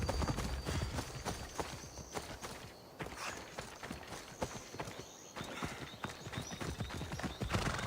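Horse hoofbeats from riding in the video game Assassin's Creed Odyssey, a fast, steady clip-clop running continuously and loudly throughout, with an occasional whinny mixed in.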